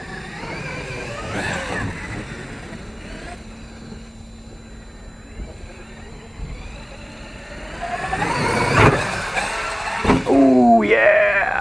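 A Traxxas X-Maxx RC truck drives over grass, its electric motor whining in rising and falling pitches as it speeds up, with louder bursts and an impact toward the end.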